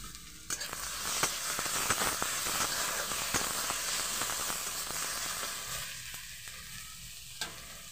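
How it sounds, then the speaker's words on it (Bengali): Ginger garlic paste sizzles in hot oil with fried onions, a steady close hiss and crackle broken by the scrape of stirring, with no talking over it. "পেঁয়াজটা ভাজা ভাজা হয়ে গেছে, দিয়ে দিলাম আদা রসুনের পেস্ট পুরো ভর্তি করে 1 চামচ"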